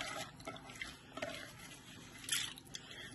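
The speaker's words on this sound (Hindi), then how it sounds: "ताकि ये सारा जो पानी है वो ड्रेन हो जाए।" Water drains from soaked lentils sitting in a kitchen strainer: soft, close trickling and dripping with faint wet squishes and one brief, brighter splash near the end, fairly quiet overall.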